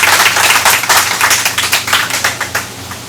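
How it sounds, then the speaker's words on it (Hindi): Audience applause at a Hindi poetry show in a performer's hometown, a dense burst of many hands clapping close and steady for about three seconds over a faint low hum. "तो एक बार तालियां हो जाएं।"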